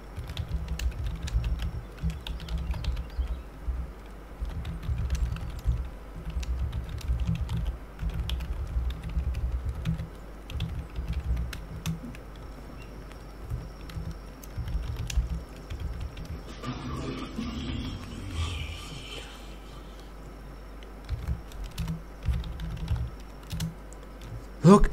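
Steady computer-keyboard typing to enter chat text while playing The Forest multiplayer, a continuous run of close clicks with a brief burst of other sound partway through.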